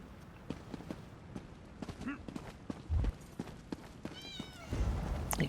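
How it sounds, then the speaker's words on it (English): A cat meows within the Elder Scrolls Online game world in Grahtwood, a short wavering call heard amid game ambience with steady rhythmic hoof-like footsteps and a low rumble. "I can hear a cat."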